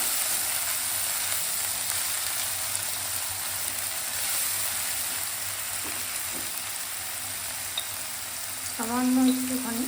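Boiled onion paste frying in a pan for malai paneer, a steady soft sizzle across the whole stretch that swells louder near the end as the paste is stirred.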